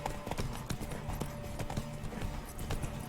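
Hooves of the horse Roach clip-clop in a quick galloping rhythm across the ground in The Witcher 3, close and steady under a low ambient bed, with a faint voice briefly present.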